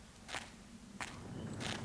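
A guard's footsteps in the stealth game Thief 2: The Metal Age fall on hard ground as three crisp, evenly spaced steps, faint and distant over a low background hum, with no talk.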